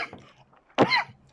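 A single sharp cough bursts out near the mic after a brief stretch of quiet, short and throaty.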